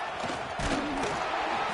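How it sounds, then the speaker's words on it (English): Football stadium crowd cheering, a dense, loud roar of many voices swelling steadily with no gaps, heard at a distance as one broad wash of noise. "This crowd bringing the energy and noise early."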